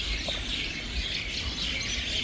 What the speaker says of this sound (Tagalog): Ay, daming mga ibon.